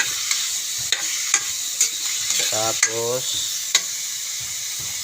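Onions frying in a pan with a bouillon cube stirred in, a constant bright sizzle broken by repeated scraping stirs, with a brief voice speaking over it.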